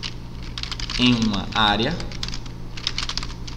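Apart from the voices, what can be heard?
pressing Alt key and mouse clicking in Photoshop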